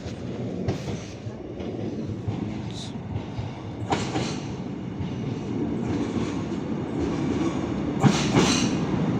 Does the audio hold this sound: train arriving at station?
yes